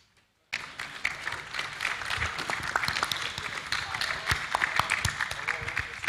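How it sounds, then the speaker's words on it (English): Audience applauding after a panel on international indigenous film collaboration, dense and sustained clapping that starts abruptly after a brief silence and carries steadily through to the end. "So now we can have that round of applause."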